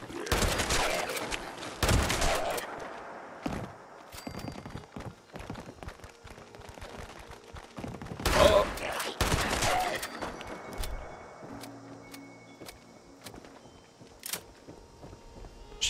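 Several loud shotgun blasts boom out early and midway in Fallout 76, separated by quieter stretches with footsteps and scattered clicks, and background activity continuing after the shots.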